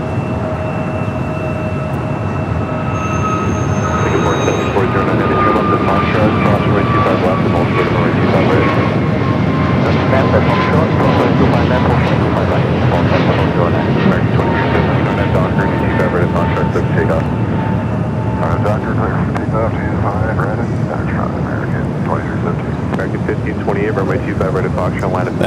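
Jet airliners at Los Angeles LAX airport, including a Delta 737-900ER arriving from Las Vegas and an American flight bound for JFK, roar loudly and steadily with a long whining engine tone that slowly falls in pitch, while a voice talks over it.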